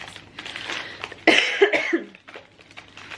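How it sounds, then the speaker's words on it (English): A few sharp coughs burst out close to the mic in a quick cluster, with quieter rustling before and after. "I forgot again that dairy destroys my throat / makes me cough"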